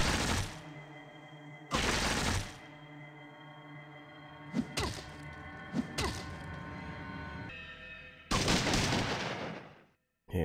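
Gunfire erupts in the video game Fallout 2 as loud, sharp shots and heavy bursts, spaced irregularly with short ringing gaps between them and a sudden drop to near silence just before the final blast.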